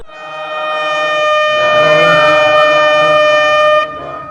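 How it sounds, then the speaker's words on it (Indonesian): A loud, sustained horn-like siren blares with a harmonically rich tone, swelling midway and then cutting off abruptly. "Ketika sirine yang berbunyi, inilah yang dilakukan oleh mereka."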